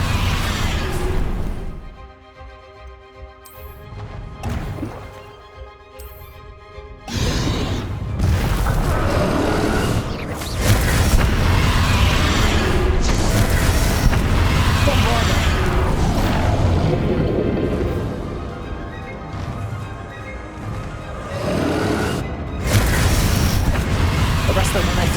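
A Bombarda spell exploding in Hogwarts Legacy, heard as heavy booming blasts and crashing debris amid ongoing battle noise, with speech and quieter gaps in between.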